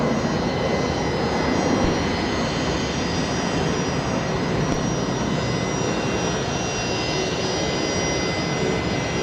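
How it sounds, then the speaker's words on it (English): A Fokker 70 jet rolls onto its bay at Brisbane Airport close by, its engines giving a steady, loud whine and rumble that holds evenly throughout with no voices over it. "one Fokker 70 out there, and I've got one just arriving on the bay right in front of me here"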